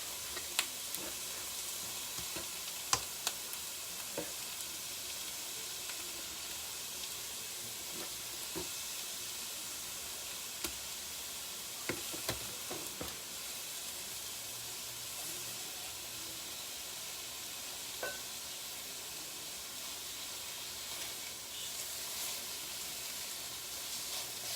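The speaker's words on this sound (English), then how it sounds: "although they're searing real quick, I'm gonna keep doing the chunks on this" Meat chunks for barbacoa sear in a hot pan with a continuous soft sizzle and hiss, broken by a few faint clicks and taps, at a moderate distance.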